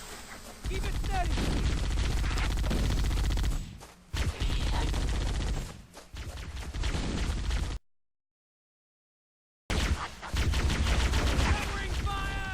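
Gunfire in the video game Halo: Combat Evolved, dense bursts of shots and blasts with loud, sustained combat noise, broken by a short silent gap before the shooting resumes.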